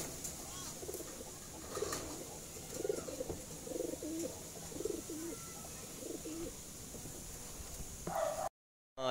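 Racing pigeons coo repeatedly in a breeding loft, soft rounded calls pulsing in a steady rhythm at moderate distance over a constant background hiss.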